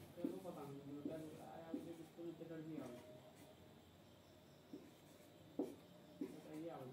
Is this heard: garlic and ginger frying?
no